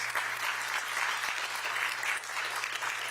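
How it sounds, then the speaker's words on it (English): Steady, full applause from a ceremony audience honours a teacher at the 2024 OSSE Educator Awards in Washington, DC, continuous and even throughout over a low electrical hum. "Let's give her another round of applause"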